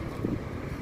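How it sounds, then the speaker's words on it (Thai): Strong wind buffets the microphone in an open rice field, a steady low rumbling roar throughout with no other clear sounds and no talking. "ลมแรงนะครับ"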